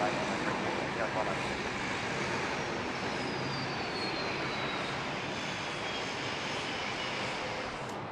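Aircraft engines roar continuously around Sydney Airport, a broad, steady rumble from planes on the airfield, with people talking over it.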